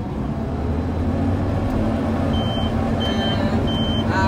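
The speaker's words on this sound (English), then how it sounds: "we start the header, start the separator, throttle up" Combine harvester engine droning steadily as the header and separator start and it throttles up, a loud continuous low hum with a few faint beeps, no talk.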